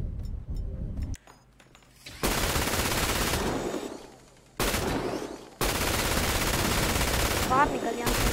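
Minigun fire in GTA 5 roleplay: long, loud continuous bursts of rapid gunfire, stopping briefly around the middle and resuming for several more seconds, up close.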